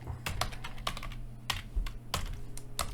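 Someone types on a computer keyboard up close and fairly quietly, the keys clacking in quick irregular bursts over a faint low hum, with no voices.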